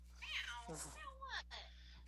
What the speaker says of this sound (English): She's playing with the cat.